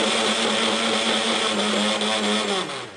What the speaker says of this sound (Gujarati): તો હવે આપણે આને મિક્સર